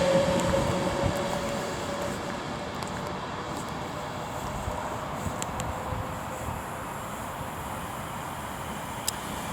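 A London Northwestern Railway train at Milton Keynes Central on the West Coast Main Line gives a steady low rumble, with faint squeals and clanks under the broad station ambience.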